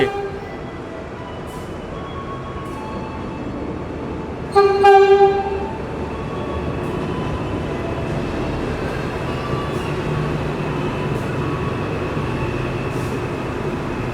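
A diesel multiple-unit airport train in Padang, Indonesia, rumbles steadily along with a brief, loud horn blast early on, followed by continuous rolling noise and faint clanks.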